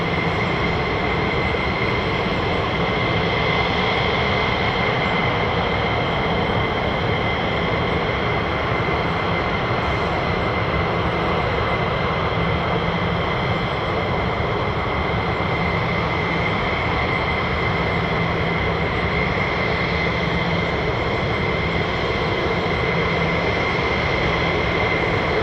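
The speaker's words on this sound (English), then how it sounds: "F-15 started up." An F-15 fighter jet engine starts up at an air base, a loud sustained turbine whine and roar holding steady tones for the full length, close and unbroken with no voices.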